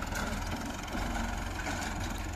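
Tractor engine idling in a Punjab village, a steady low rumbling chug that runs evenly and fairly close throughout, with no talking.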